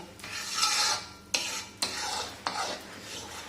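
A spoon stirring and frying gond powder in flour in a pan over low heat, with rhythmic scraping strokes and a soft sizzle, close, about four sweeps.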